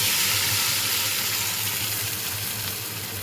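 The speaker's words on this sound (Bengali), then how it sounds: "এবার আমি টমেটো, আদা, জিরে যে লঙ্কা পেস্ট করেছিলাম সেটা আমি ঢেলে দিলাম।" Tomato, ginger, cumin and chili paste hits a hot pan for a thin katla fish curry, giving a steady, loud, close sizzle with a continuous hiss that fades slightly over a few seconds, with no voices.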